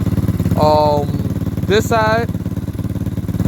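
Lifan KP Mini 300 motorcycle engine running steadily, exhaust spitting from the head, a constant close pulsing throb throughout with someone talking briefly over it.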